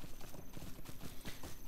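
Horse hooves clip-clopping in the Lord of the Rings Online video game, a steady quick rhythm of close, distinct hoof strikes running throughout with no voices.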